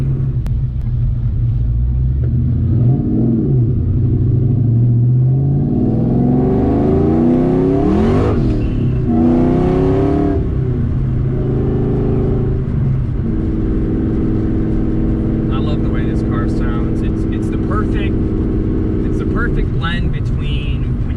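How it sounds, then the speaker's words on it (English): An 800-horsepower 2003 Ford Mustang SVT Cobra engine roars and revs as it accelerates, a loud, deep throaty rumble rising and falling in pitch through gear changes, heard from inside the car alongside intermittent talking. "get on the pedal, you really hear the throatiness and the deepness"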